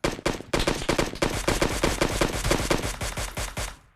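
Rapid bursts of automatic gunfire in the video game PUBG Lite, loud sharp shots in a fast steady rhythm that continues for the whole stretch before tapering slightly at the end.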